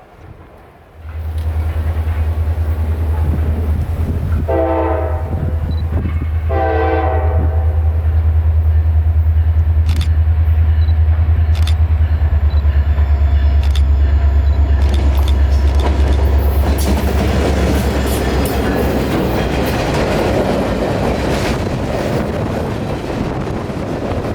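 A freight train on a Florida line rumbles past with a loud, steady low roar and heavy wind buffeting, and two short horn-like tonal blasts sound early on.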